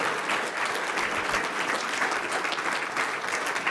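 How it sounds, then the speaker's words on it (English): A quick round of applause at a 35th anniversary sports law awards event, with a room full of people clapping steadily and evenly, close and fairly loud throughout. "if you could just stand up, we'll give you a quick applause"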